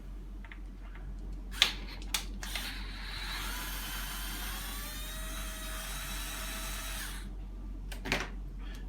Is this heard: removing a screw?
yes